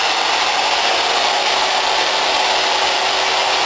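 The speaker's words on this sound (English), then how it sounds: "CNC machine's getting done." A CNC machine running in a bleacher-building shop gives a loud, continuous broadband whir like a blower or router, steady throughout with a faint tonal hum underneath and no talking.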